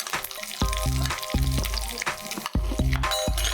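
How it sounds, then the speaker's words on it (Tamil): Cashew nuts and raisins fry in ghee, a continuous close sizzle under steady stirring, with low tonal hums and rhythmic bursts running beneath it. "நெய்யில் வந்து நீங்கள் வந்து கேஷ்யூ நட்ஸ் போடுறீங்க, ரேசின்ஸ் போடுறீங்க"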